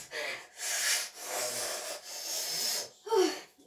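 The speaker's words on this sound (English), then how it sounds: "Right, keep stirring." Food being stirred in a pan with butter and vegetables, heard as a series of scraping, rubbing strokes in a steady back-and-forth rhythm, close and fairly quiet.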